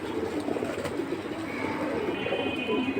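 Pigeons of a hammer breed in a pigeon sale setting give low, soft coos that murmur continuously over a faint background hum.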